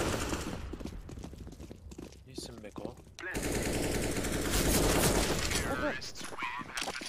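Rapid automatic gunfire sprays in a CS:GO match, bursts crackling in quick succession, then a louder sustained volley of shots that dominates the second half.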